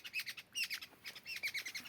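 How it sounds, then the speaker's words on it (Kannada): Birds on a Kodagu farm in the Malnad hills raise shrill, rapid alarm chirps and squawks at a snake raiding their nest, the calls overlapping in repeated bursts, close and fairly loud with no talking. "ಇಷ್ಟೊತ್ತು ಪಕ್ಷಿಗಳು ಯಾಕೋ ಜೋರಾಗಿ ಕಿರ್ಚಾಡ್ತಿದ್ದ."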